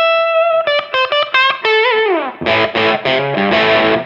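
Overdriven Daniels Guitars Les Paul Junior electric guitar played alone with its tone knob rolled fully down, giving a dark, muffled tone: a quick run of plucked notes, a bend sliding down, then heavier distorted chords.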